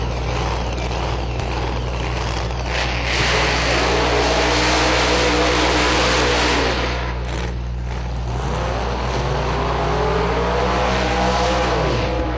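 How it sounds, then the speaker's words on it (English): A drag racing car's exhaust crackles and rumbles at an outlaw drag racing event, loud and continuous, with a broad roar that swells and fades. "you hear a little cackling in the pipes"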